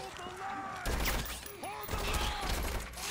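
Gunshots fired at demons in the action game Devil May Cry 5, a run of muffled shots and impacts mixed with game effects, heard under someone talking.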